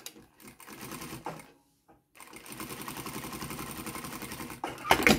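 A sewing machine topstitches along a bag strap in two bursts of rapid, even needle chatter separated by a short pause, fairly close and moderately loud, with a faint handling clatter at the end.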